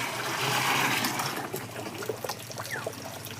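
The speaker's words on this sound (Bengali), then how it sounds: "বেসন গোলা জলটাকে আমরা ড্যামের মধ্যে ফেলে দেবো।" Gram flour mixed with water pours into a drum for a soil preparation. A loud, steady gush of liquid thins out into trickles and splashes, heard close up with no voices.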